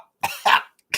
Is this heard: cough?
yes